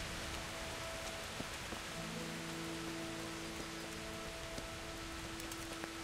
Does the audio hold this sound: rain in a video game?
yes